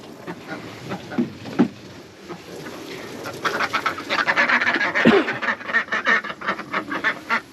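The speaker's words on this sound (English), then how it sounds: "Pretty sure the white one's a pekin and the brown one is a female mallard." Pekin and mallard ducks quack repeatedly at close range in a backyard duck pen, the calls growing busier and overlapping in the second half.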